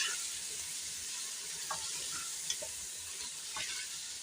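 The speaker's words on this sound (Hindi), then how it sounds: "8 से 10 मिनट तक हम मसाले को भून लेंगे" Spices and beef frying together in their own rendered fat for a ladyfinger beef curry, a steady close sizzle with a few soft stirring scrapes.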